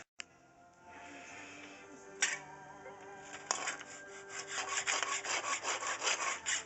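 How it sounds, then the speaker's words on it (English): A fine-tooth hacksaw cuts through cable, starting with slow scraping strokes that grow into quicker, rhythmic back-and-forth rasping. The sawing is quiet and close. "Cut through. Takes a pretty good fine tooth hacksaw."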